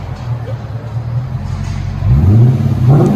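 From inside the cabin, a Lexus LS 460 with a 4.6L V8 and the mufflers deleted gives a deep engine rev that swells partway through. The sound is muffled and low, with faint road noise underneath.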